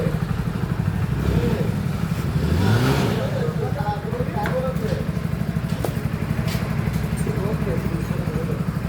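A Bajaj Pulsar motorcycle engine runs in a garage, a steady low engine drone with a brief rise in revs, heard up close beneath people talking.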